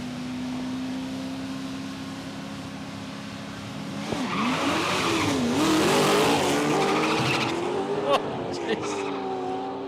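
A late-model HSV car launches down a drag strip at Palmyra Raceway, its engine note rising and shifting through gears with tyre noise, loud and close, while a commentator talks over it.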